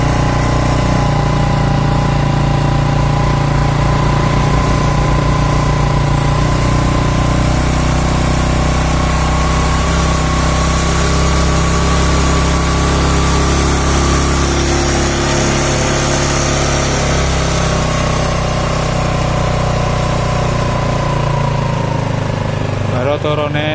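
Yamaha Mio scooter engine running near the microphone with the throttle revved and eased, a sustained drone whose pitch shifts gradually, while someone talks over it.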